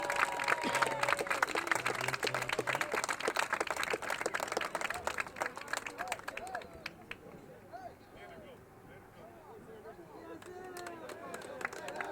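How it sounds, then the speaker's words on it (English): Crowd applause and cheering for a marching band at a high school football game, with scattered claps, fading somewhat midway, mixed with outdoor hubbub and a few brief tonal sounds in the background. "Big round of applause for the band"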